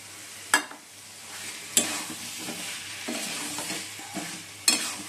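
Boiled potatoes stirred into a pan of frying ginger, garlic, turmeric and Kashmiri chili spice paste: a soft continuous sizzle under sharp scraping strokes of a spoon against the pan, three distinct clatters spaced a second or more apart.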